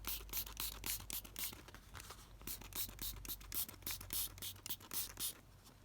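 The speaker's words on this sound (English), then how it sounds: "just going to spray this with the coffee" Quick repeated hisses of a hand spray bottle spraying coffee onto paper for bookmaking, a rapid series of short bursts, close and fairly quiet, with no talking.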